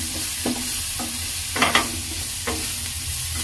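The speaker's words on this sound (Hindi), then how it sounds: "चिली मसाले जो है हमारे अच्छे से भून गए हैं।" Chili flakes and Kashmiri chili powder fry in oil in a pan with a steady close sizzle, and a spoon scrapes and stirs them several times. No one speaks.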